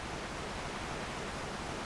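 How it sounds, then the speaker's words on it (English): Waterfall in the video game Devil May Cry 3, a dense steady roar of rushing water filling the scene evenly and loudly with no break or voices. "Let's check out what's behind this waterfall."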